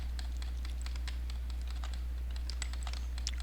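Rapid, irregular keyboard clicks from button-mashing during a video game, steady and close over a constant low electrical hum, with no talking.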